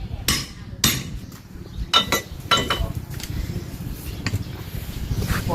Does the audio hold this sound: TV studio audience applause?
no